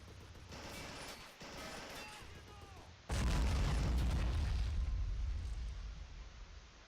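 A grenade blast in the World War II strategy game Men of War erupts midway as a loud, broad boom, following stretches of steady battle rumble with distant gunfire.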